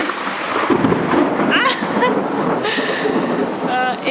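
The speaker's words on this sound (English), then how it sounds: "around 5, rain starts to pour down" Heavy evening rain pouring down during a rainy-season thunderstorm in El Salvador, a steady broadband roar of rain and wind throughout, with faint distant rumbles and a few brief bird or voice chirps over it.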